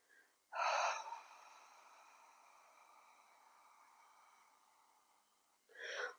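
Slow, audible breaths during a morning yoga practice: a sharp breath near the start, a long soft airy breath drawn out over several seconds, then another sharp breath at the end, close and quiet with no talk.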